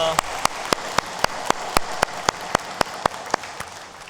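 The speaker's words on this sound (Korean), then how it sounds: "우리 함께 영광의 박수 올려드리겠습니다." A church congregation claps together in a steady, evenly spaced rhythm during a Sunday service, with sharp regular beats about four per second and a soft wash of sound beneath them.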